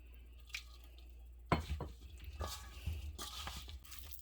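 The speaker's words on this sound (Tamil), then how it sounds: "இந்த மாதிரி நல்லா மிக்ஸ் பண்ணிக்கோங்க." Cauliflower florets are mixed by hand with masala, chopped coriander and a light sprinkle of water in a bowl: quiet, soft squishing and stirring with a few faint clinks against the bowl, and no talking.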